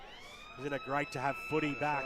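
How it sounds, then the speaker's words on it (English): A quarter-time siren at a local Australian football match at Ted Ajani Reserve holds a steady, continuous tone in the background while a commentator talks over it. "that's the siren sounding to announce quarter time out here at Ted Ajani Reserve"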